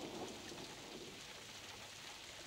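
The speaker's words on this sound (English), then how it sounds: "The rain that's been threatening all day finally falls." Rain from a storm pours across the Zambezi Valley in Zimbabwe, a steady soft hiss of falling drops with a faint low rumble beneath, distant and even throughout, no voices.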